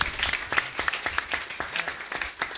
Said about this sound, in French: Applaudissez pour Jésus-Christ.